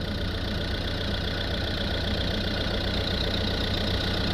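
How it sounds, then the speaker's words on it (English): A Mercedes A180 with a 1.5 diesel engine idling, a steady, even low rumble with a faint knocking texture, constant and close with no variation. "So we've got the engine running there, as you can see. This is an A180"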